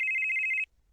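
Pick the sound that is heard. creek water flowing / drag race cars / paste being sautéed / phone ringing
phone ringing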